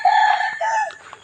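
A rooster crows loudly and close by in the grounds of a Thai Buddhist temple in Pong Chai, Chae Hom, Lampang, one long drawn-out crow that tails off, with no talk over it.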